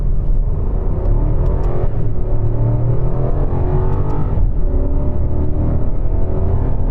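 BMW accelerating hard through first gear with engine sound enhancement switched off, heard from inside the cabin: a steady loud engine drone and deep road rumble rising in pitch, with a brief shift-like dip midway.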